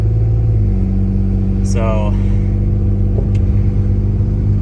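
A Lexus GS300 pulls away with a steady low engine drone and hum, while someone speaks briefly over it.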